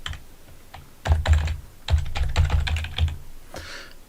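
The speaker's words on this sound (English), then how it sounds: "if I know the address, I can just type it like that and click apply" Keystrokes on a computer keyboard as a web address is typed, coming in quick close bursts of clicks with short pauses between runs.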